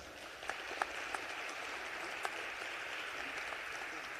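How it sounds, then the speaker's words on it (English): Audience at a state General Assembly event applauding, a faint, distant, even patter of clapping with a few sharper nearby claps standing out. "Let's give him a round of applause."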